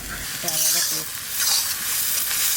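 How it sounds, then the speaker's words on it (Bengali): Onions frying in an iron wok for mutton curry give a steady, close hissing sizzle throughout, with a brief tonal voice-like sound near the start. "লোহার করাইতে রান্না করছি আমরা"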